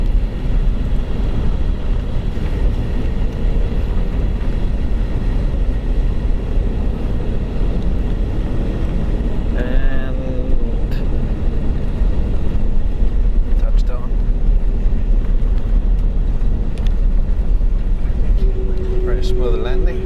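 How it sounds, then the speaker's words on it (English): From inside the cabin of a Qatar Airways Airbus A330 landing at Doha airport, a loud, steady roar of engines and airflow fills the whole stretch, with a few brief tonal chimes. "Smooth landing."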